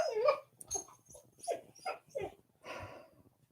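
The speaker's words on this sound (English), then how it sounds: "blooming Rosie yelping" A dog yelps and whimpers in a burst of about seven short, high, strained cries with brief gaps between them, close by and fairly clear, with no speech over them.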